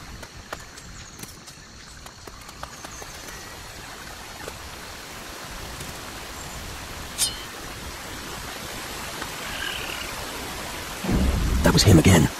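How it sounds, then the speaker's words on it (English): Rain of fire spell in the action RPG Risen 3: Titan Lords, a dense roaring, crackling wash like a heavy storm that builds steadily and swells into a louder burst near the end. "a rain of fire spell."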